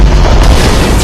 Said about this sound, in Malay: Memang dia meletup.